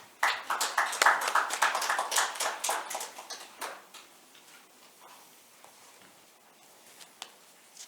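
Applause from a conference audience welcoming a presenter at a metaverse industry policy forum, a dense burst of many hands clapping that swells quickly, then thins and fades into a few scattered claps.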